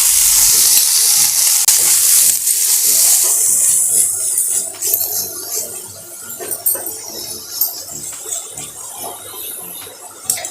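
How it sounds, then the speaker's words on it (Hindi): Freshly washed fenugreek (methi) leaves hit a hot kadai with a loud, hissing sizzle that gradually dies down into softer crackles and stirring noises, with no talking during the frying. "अब इसी कढ़ाई में हम अपने मेथी को भी 2 मिनट तक भून लेंगे।"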